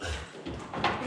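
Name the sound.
bed being moved and hitting a door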